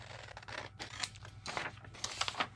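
Scissors cut straight through paper printables for a junk journal, a close series of crisp, crunchy snips and slices with no talking.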